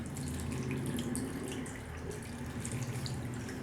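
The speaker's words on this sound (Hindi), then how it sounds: "हम इसमें पानी डाल देंगे।" Water pours into a pot of spices and chicken for shami kebabs, a continuous splashing, gurgling stream heard close and steady throughout, with no voices.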